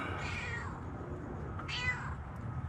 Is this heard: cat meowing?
yes